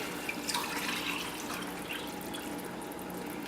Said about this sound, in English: I'm going to add in the 2nd cup of liquid.